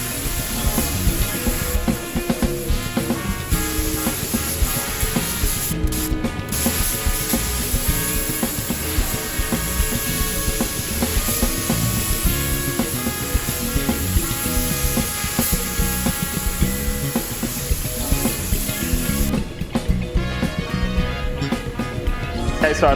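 Spray gun applying paint coats to a carbon fibre car hood: a steady, loud, continuous hiss fills the clip, with brief pauses in the spray near six and twenty seconds.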